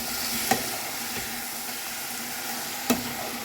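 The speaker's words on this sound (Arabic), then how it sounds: "نحط الطماطم اهي، الطماطم متسبكه اصلا يعني، سيبها تتسبك مع نفسها بقى" Tomatoes sizzling and frying in a pan as part of an Egyptian home-cooked meal, a steady soft crackling hiss that runs throughout, with two brief louder pops.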